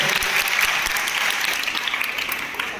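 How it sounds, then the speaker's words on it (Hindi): A seated audience at a school prize ceremony claps for a student who placed first in class 12, dense, even applause that carries throughout and tapers slightly near the end. "तालियां बजाते हैं"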